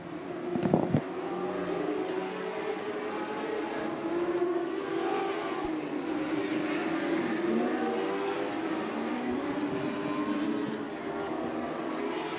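Race cars circling a track during a championship points race, a sustained layered engine drone rising and falling as cars pass, fairly loud and continuous with no talk.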